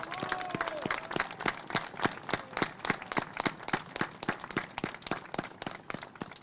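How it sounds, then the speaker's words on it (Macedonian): A crowd at a political rally claps in a steady, even rhythm throughout, loud and sustained, with a few voices audible near the start. "Ве молам еден долг и силен аплауз за господинот Салко Куч"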